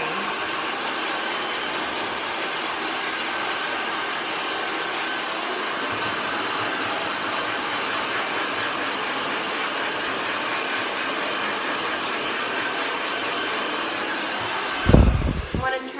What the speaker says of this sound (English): rough blow drying, I have it on the highest heat setting and the most powerful setting